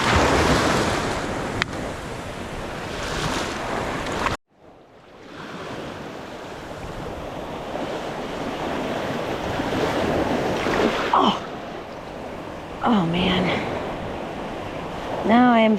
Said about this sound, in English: I really shouldn't leave my back to the waves.